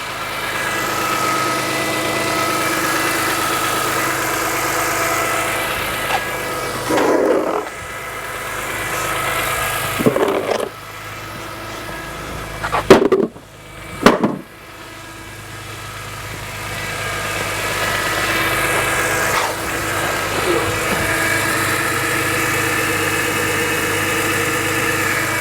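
A BMW E46 M3 with its S54 engine idles steadily and close by with an even low hum. A few brief clunks and handling noises interrupt midway.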